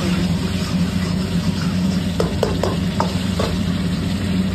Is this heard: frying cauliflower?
yes